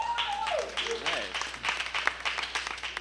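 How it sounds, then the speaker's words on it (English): Applause from a stand-up comedy audience rises and keeps going as a scattered run of claps, moderately loud, with a voice and some crowd noise mixed in early on. "Can I get a round of applause for kids?"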